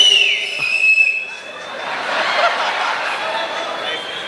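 A piercing whistle rings out over a lively crowd, followed by a swell of cheering, chuckling and chatter.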